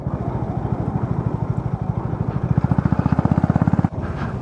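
A motorbike engine labours in low second gear down a steep 12 km mountain descent with hairpin loops on the road to Durbuk and Pangong Lake in Ladakh, a close, steady throbbing pulse that turns more distinctly rhythmic toward the end.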